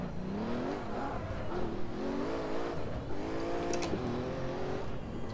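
A Pagani Huayra's engine revs hard in the Assetto Corsa racing sim, a loud, steady roar whose pitch climbs and drops repeatedly through gear changes and throttle lifts, with no voices over it.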